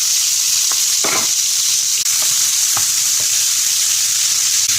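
Red pepper, garlic, leek, celery and carrot sizzle steadily in a hot pan, a loud continuous frying hiss with a few scrapes and stirs of the spoon.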